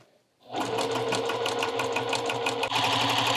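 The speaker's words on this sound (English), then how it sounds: "let's go ahead and bring our foot control down and stitch along there." A sewing machine stitches a hem with ban roll. After a brief quiet start it runs at a steady pace, close up and loud, with a quick even stitching whir and no talking.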